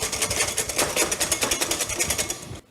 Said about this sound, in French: ce qu'on va faire maintenant, c'est on va la fouetter très fort